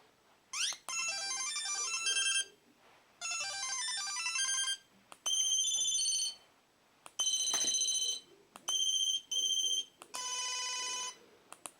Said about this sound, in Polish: Tak, tu mamy te nasze dzwonki. Oczywiście jest to monofonia